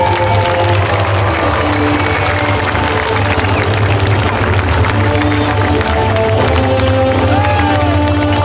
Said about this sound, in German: Jubel mit Händegeklapper.